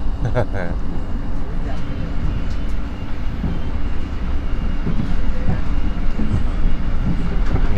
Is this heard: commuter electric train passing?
yes